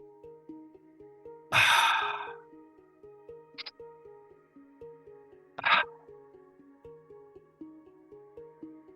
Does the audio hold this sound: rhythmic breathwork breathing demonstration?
yes